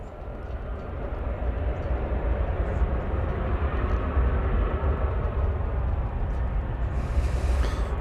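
An Airbus A321 departing Dallas Fort Worth airport on flight 2655 to Portland, Oregon, roars in a broad, steady jet rumble that builds and holds, moderately loud and close, with no voices.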